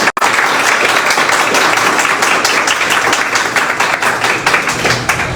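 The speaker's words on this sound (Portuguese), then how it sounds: "As palmas ao Senhor Jesus." A church congregation claps during a Sunday worship service, a loud, continuous roar of many hands with no break, filling the room without any speech.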